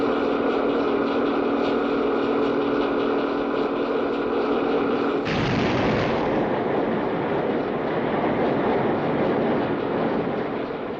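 The 8,000 horsepower diesel engines of the 1966 icebreaker Sampo run flat out as the ship smashes through thick ice, making a loud, constant roaring grind that shifts abruptly to a rougher, churning crunch about halfway through.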